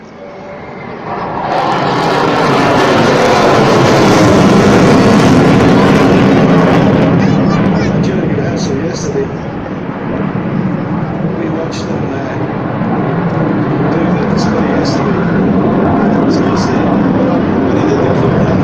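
A military jet roars loudly through air show maneuvers over Malta, a broad, sustained engine rumble that swells and holds for the whole stretch while a commentator talks over it.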